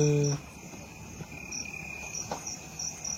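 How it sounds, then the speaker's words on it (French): Escaped feeder crickets chirping indoors, a faint, steady high trill running through the whole stretch after a brief low hum at the start, quiet and distant with no voices. "Je me disais, comme les grillons qui se sont évadés, ils chantent."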